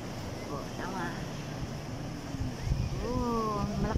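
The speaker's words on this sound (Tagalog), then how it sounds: "Malakas ng hangin." Strong wind buffets the microphone at the beach, a steady rumbling rush with gusts, while people talk intermittently over it.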